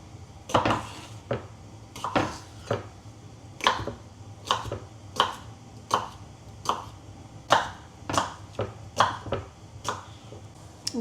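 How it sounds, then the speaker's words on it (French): A knife chops cucumber into small dice on a cutting board, giving a steady run of sharp, close knocks at an even, unhurried rhythm with no talking. "Je viens couper un bon morceau de concombre."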